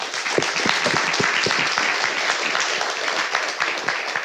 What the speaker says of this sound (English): Please, everyone, round of applause.